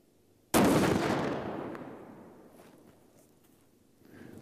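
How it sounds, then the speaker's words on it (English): A single 50 BMG sniper rifle round cracks out loud and close, then a long booming echo rolls downrange and slowly fades. "We're going to try to send this 50 BMG round downrange and go in the first one, through them all, and out the back."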